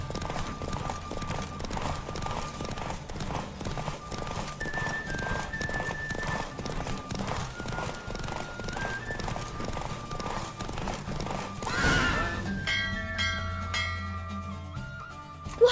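Horse from The Witcher 3 galloping in a steady clip-clop rhythm under game music, ending in a loud neigh as the ride finishes.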